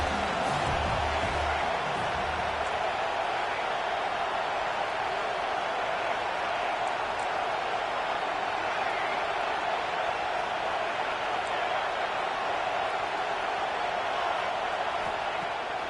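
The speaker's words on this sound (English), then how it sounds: "Big third down as the crowd gets behind this defense." Steady stadium crowd roar in a college football video game, a dense, unbroken wash of noise at even loudness as fans get behind the defense on third down, with no distinct voices standing out.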